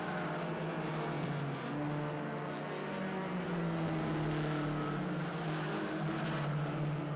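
Race cars, including the No. 400, lapping Barrie Speedway, their engines droning as a continuous roar at a moderate distance, swelling slightly toward the end.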